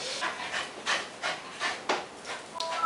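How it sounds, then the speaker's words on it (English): An excited dog pants in rapid, rhythmic breathy bursts close by in a quiet indoor room, with a few faint soft thumps at the end. "That's my dog in the background."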